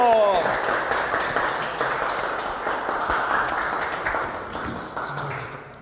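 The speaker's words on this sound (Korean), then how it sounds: "박수 부탁드립니다" Audience applause at a staff workshop lecture on work-life balance, a dense, steady wash of clapping that fills the room and slowly fades over several seconds.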